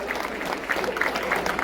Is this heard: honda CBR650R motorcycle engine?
no